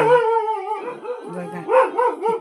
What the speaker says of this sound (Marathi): कुत्रे बघा कसे ओरडतात